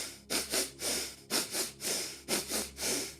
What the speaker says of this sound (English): This is a quick double inhale followed by a release exhale.